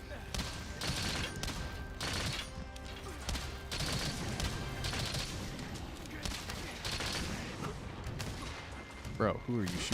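Dense, continuous video game gunfire rattles in bursts with crashes and impacts, layered with music and people talking over it.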